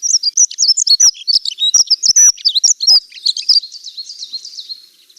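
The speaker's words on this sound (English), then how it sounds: "The dunnock is a very high-pitched, tinny sounding bird in song." A dunnock sings a fast, high-pitched, tinny warbling phrase of jumbled thin notes, close and clear, trailing off quieter toward the end with no other sound.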